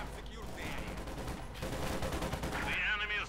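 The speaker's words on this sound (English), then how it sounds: "they're simply getting cut down there by the Panzer gun that is active fire" Panzer tank gunfire and bursts of small-arms fire in the Company of Heroes 2 real-time strategy game, continuous rattling battle noise with a commentator talking over it.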